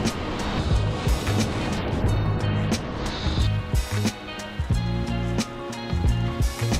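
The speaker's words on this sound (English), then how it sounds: "Got some waves coming in." Ocean waves roll in on a cold day by the water, a continuous broadband wash of surf with surges, fairly close, along with wind and handling noise and no clear talk.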